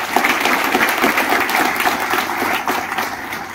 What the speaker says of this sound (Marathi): खरंच एकदा जोरदार टाळ्या झाल्या पाहिजे